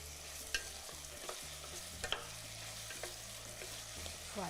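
Soft, steady sizzling of vegetables in a pan, with occasional scrapes and clinks of a utensil stirring, fairly quiet and close.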